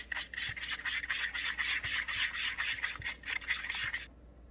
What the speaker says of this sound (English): hand batter, tossed around, and we're going to fry them up.